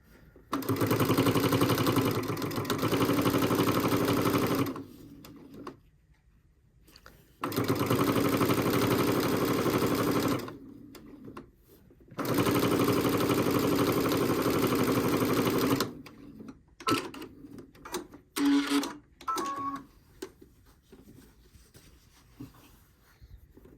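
A sewing machine stitching fabric quilt blocks in loud, rapid bursts, running several seconds each with pauses between, then short stop-start stitches at the end.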